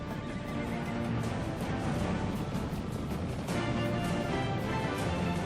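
Wild Mustang horses neigh and whinny in loud, repeated calls over a busy background of hooves and movement.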